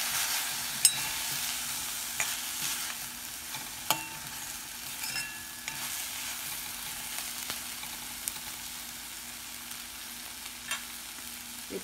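Raw tomato chutney with toasted sesame and coriander sizzles softly in a pan as salt is stirred in, with occasional spoon scrapes and taps over a low, steady frying hiss.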